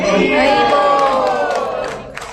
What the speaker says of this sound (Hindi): आप सबको बहुत हर्ष और उल्लास से इनका प्रोत्साहन करना है तालियों के साथ। हरी बोल के साथ।